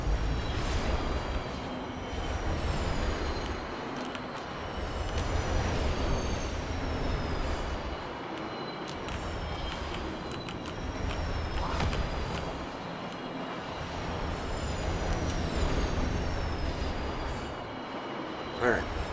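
Trains rumble and rattle continuously through a Destiny 2 game scene, a steady low mechanical roar with brief hissing and squealing accents, while a voice talks over it at times.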